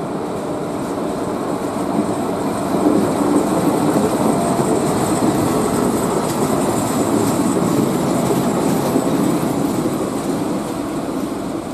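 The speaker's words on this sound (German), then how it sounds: "dass Züge, welche auf meinem Gleis durchfahren, mir auf dem Rücken auffahren" A freight train passes through the platform at Kufstein station in a loud, continuous rolling roar of wagons on rails, with faint clickety-clack, sustained for the whole stretch without any voices.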